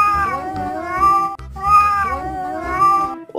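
Three drawn-out cat meows in a row, close and clear with rich harmonics, each separated by a short pause.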